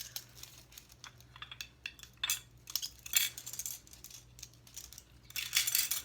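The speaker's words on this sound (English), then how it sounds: "put little plastic tasting spoons right on the front here" Small plastic tasting spoons from a dollar-store pack set down on a cake board, a run of light, quick clicks and tinkles, close and quiet over a faint hum.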